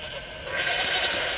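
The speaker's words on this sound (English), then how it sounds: "Find the ghostly goats." A single drawn-out goat bleat, ghostly and slightly reverberant, from the Elder Scrolls Online video game, heard alone and rising in loudness partway through.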